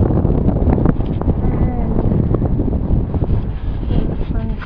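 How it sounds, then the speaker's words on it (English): Wind blows steadily outdoors in Ithaca, New York in late April, a loud continuous rushing roar buffeting the microphone throughout, with a voice faintly audible beneath it. "the wind is starting to come out again"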